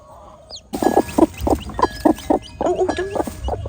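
A mother hen clucks close by in a grow-out coop where she has just been placed with her newly hatched chick, a steady run of short, repeated clucks with other fowl faintly around.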